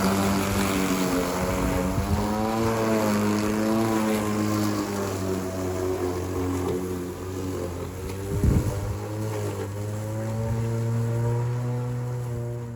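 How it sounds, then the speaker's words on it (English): A lawn mower cuts overgrown grass, its engine droning loudly and steadily up close with a wavering pitch, plus a brief thump midway; no one speaks. "time to mow this jungle"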